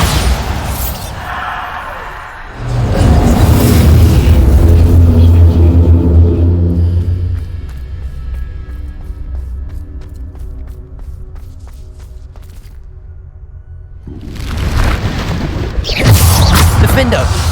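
Booming explosions from Bombarda spells in the video game Hogwarts Legacy, heavy low rumbling bursts that swell loudly, fade to a quieter stretch, then surge again near the end, with shouted game voices.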